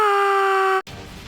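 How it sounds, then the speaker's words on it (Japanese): A woman's scream sound effect heard from outside a door in a fantasy tabletop roleplaying scene, a single loud sustained high shriek lasting under a second before cutting off abruptly into low room noise. "扉の外から女性の悲鳴が聞こえてきます"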